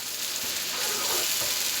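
Saag mixed with a fresh tempering of spices sizzles steadily in a hot pan, a close, continuous frying hiss with faint stirring scrapes underneath.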